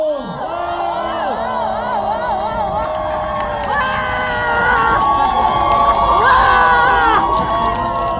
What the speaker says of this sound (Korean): 더 큰 박수가 필요합니다, 여러분.